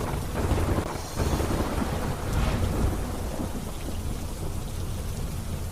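Heavy monsoon rain pours down in Porbandar district, a dense, steady roar of rain on surfaces with thunder rumbling through it and a louder burst early on, with no voices.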